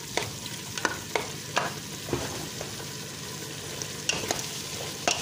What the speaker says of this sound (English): So we mix that and integrate it all well.